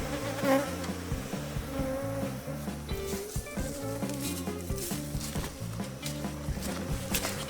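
A dense, steady buzz of honey bees swarms around an open mother hive being split and fed, with a rhythmic pulsing pattern running beneath the drone throughout.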